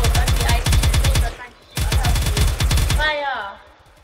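Rapid bursts of naval gunfire from a battle cruiser in a Roblox harbour battle game, two dense strings of shots separated by a brief pause, loud and close, ending with a short voice-like sweep.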